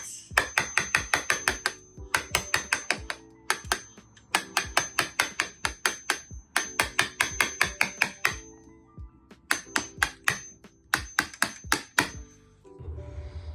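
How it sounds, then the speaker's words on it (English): A knife shaves the edge of a jammed wooden door in rapid bursts of sharp scraping strokes, grouped into short runs with brief pauses between them, close and crisp with no speech. "make sure you take your time, shave it nice and neat"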